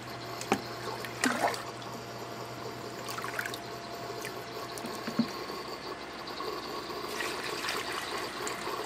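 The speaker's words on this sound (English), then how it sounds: "let it keep filling up while I keep adding more water." Water steadily filling a container during a 15-gallon nutrient flush of a hydroponic plant setup, a continuous soft pouring trickle with a few brief knocks and splashes, fairly faint throughout.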